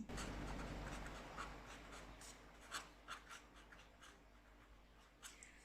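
A pen writes out a math problem on paper, with quiet, close scratching in short bursts of strokes and pauses, faint and alone.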